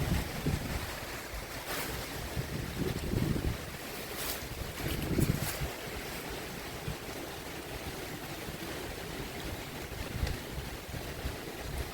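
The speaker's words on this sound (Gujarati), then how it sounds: "જોરદાર પવન સાથે વરસાદ આવે છે." Strong wind with rain roars steadily near Moti Khavdi in Jamnagar during an unseasonal March storm, with broad gusty rushing, buffeting thumps on the microphone and no speech.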